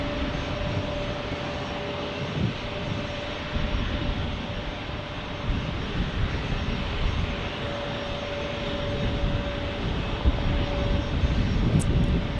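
A Hawaiian Airlines airliner in its normal livery passes at San Diego, a steady broadband engine roar holding loud and even throughout with no voices over it.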